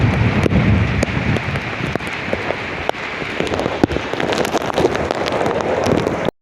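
Heavy rain and gusting wind of a strong storm batter the surroundings in a dense, continuous roar, with sharp drops and spatters cracking loudly on nearby surfaces.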